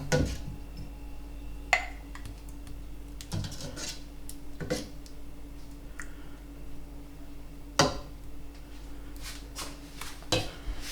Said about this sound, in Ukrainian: баночки в мене простерилізовані, і я накладаю ікру